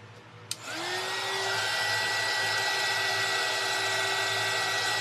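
A hair dryer switches on partway through and blows steadily for drying a section of decoupage on a silver plate, a loud continuous whir with a rising tone as it spins up, no talking.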